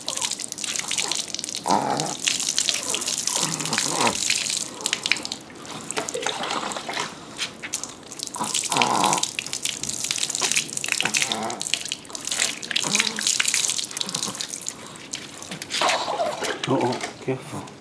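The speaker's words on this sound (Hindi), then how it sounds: "छाती पर पानी डालो।" Water is splashed and poured in repeated bursts over a person in an outdoor garden bath on a hot summer day, with voices talking throughout.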